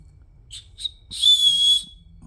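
A survival whistle from a wilderness kit: two short chirps followed by one longer, shrill, sustained blast, loud and close.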